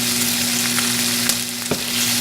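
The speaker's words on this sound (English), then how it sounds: "What we're doing now is rendering out that bacon fat" Bacon frying in a pan as its fat renders, giving a dense, continuous sizzle and crackle close up, with a couple of brief sharper pops and no talk.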